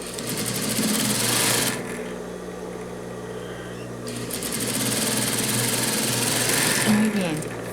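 A sewing machine stitches a side seam on a French-cut dress in two fast bursts of rapid whirring with a pause between, up close while someone talks.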